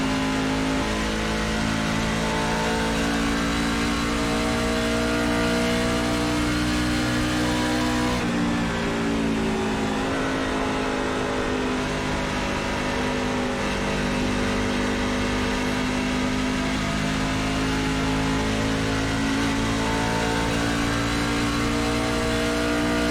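A NASCAR truck engine in the iRacing simulator at Homestead Miami roars continuously at high revs, with a brief dip and pitch shift partway through before climbing again, loud and close, with no talk.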